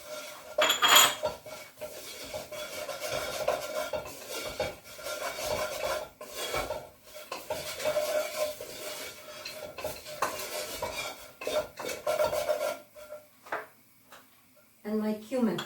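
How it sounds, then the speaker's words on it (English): Ground turmeric and cinnamon going into a hot cooking pot for a chicken and chickpea tagine, with scraping, spoon stirring and pot clatter against soft sizzling, partly under a speaking voice. "And into that now I'm going to put my spices."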